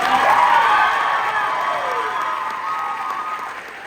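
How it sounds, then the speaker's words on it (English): A band concert audience applauds the band director with steady clapping, cheers and a few whoops, loud at first and gradually easing off. "another round of applause for Doherty"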